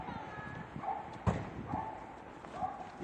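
A few distant, muffled dog barks spaced apart over faint outdoor street background noise in central Vienna, Austria, with a sharp knock in the middle.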